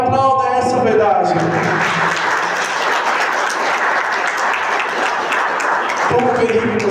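A Catholic preaching audience breaks into loud, dense applause right after a voice, sustained for several seconds before speech resumes.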